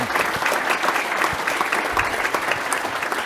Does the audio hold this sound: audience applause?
yes